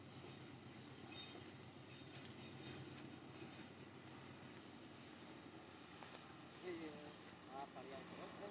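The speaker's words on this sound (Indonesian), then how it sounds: "ada kereta lewat" A train rolls past at a distance near a plantation campsite, a faint low rumble of wheels on rails with a brief metallic squeal near the end.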